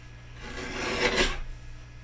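Scissors cutting a piece of pink craft paper, a soft continuous rasping snip that swells in the middle and fades, close and alone with no talk.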